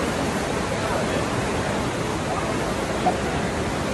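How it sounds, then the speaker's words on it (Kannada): The Bavali river flows past Kottiyoor temple in a steady, dense rush of water, loud and even throughout with no voices. "ಬಾವುಲಿ ನದಿ ನೋಡಿ ಎಷ್ಟು ಚೆನ್ನಾಗಿ ಕಾಣಿಸ್ತಾ ಇದೆ ನೋಡಿ"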